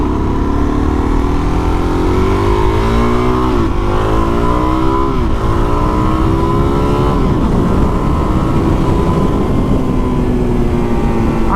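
A 2019 Suzuki DR-Z 400SM motorcycle accelerates hard from 0 to 60, its engine loud and close, rising through several gear changes with continuous wind rush and no voices.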